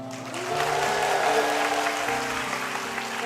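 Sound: applause

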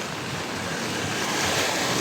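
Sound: floodwater rushing fast through a stream

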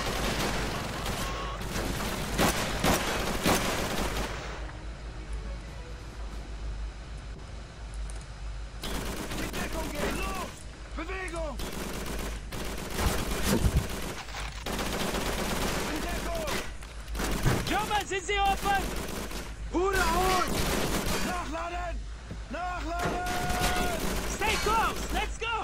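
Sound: gunfire and machine gun fire in Call of Duty 3 video game

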